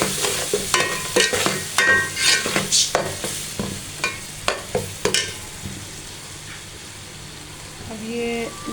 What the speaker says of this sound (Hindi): मसाला फ्राई हो चुका है